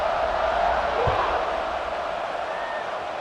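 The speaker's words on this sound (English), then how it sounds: "this crowd is buzzing after that last score." A crowd buzzes in the stadium of the College Football 26 video game on PS5, a dense, steady roar of many voices filling the whole span at an even level.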